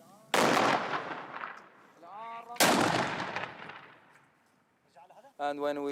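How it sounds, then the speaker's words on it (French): Artillery fire near Mosul: two heavy, booming shots land a couple of seconds apart, each with a long rumbling decay. Brief voices sound between them and again at the end. "les artilleurs ajustent leurs tirs"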